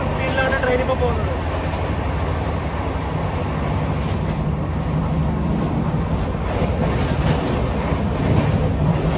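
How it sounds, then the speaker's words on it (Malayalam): From inside a Grand Trunk Express sleeper coach running at 130 km/h, a dense, steady rumble and rush of wheels and wind fills the whole stretch, loud and unbroken, with a voice briefly audible. "130 km/h സ്പീഡിലാണ് ട്രെയിൻ ഇപ്പോൾ പോകുന്നത്"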